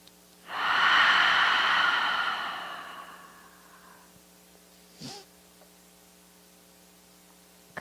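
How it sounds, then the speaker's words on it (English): A long open-mouth exhale during a calming yoga session, a loud breathy rush lasting about three seconds that slowly fades, followed by a brief soft sound with steady mains hum underneath. "After a long day, it really helps to do the open mouth exhale."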